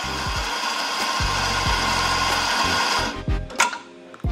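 Electric coffee grinder grinding freshly bought espresso beans, a steady loud motorized whir that runs continuously and then cuts out near the end with a few rattling bursts.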